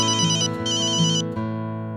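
A mobile phone ringtone plays loud and close, a bright repeating electronic melody in two bursts, then stops abruptly and leaves a fading tail; no one speaks over it.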